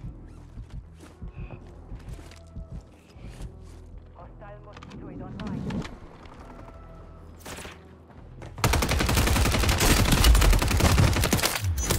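Superi 46 submachine gun in Call of Duty Warzone 3 firing a loud, sustained automatic burst near the end, preceded by quieter game sounds and movement with background voices.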